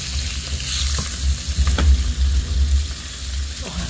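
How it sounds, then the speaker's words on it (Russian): Fish coated in flour frying in olive oil in a pan, a steady close sizzle and crackle with a few brief louder pops and spatters, no talking. "Жарю на оливковом масле."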